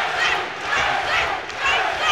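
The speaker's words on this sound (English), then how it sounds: "Listen to this crowd." A packed fight-night crowd at an Alpha Fight Series bout roars and shouts continuously, a dense wall of cheering voices swelling and dipping in waves throughout.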